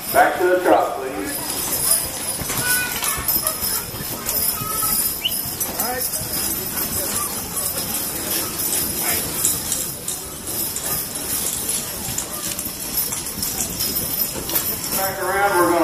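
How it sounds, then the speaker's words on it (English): Clydesdale horses' hooves clip-clop in a steady trotting rhythm on a hard surface at a draft horse show, with an announcer speaking over a busy crowd in a large arena. "Bring your horses to the trot."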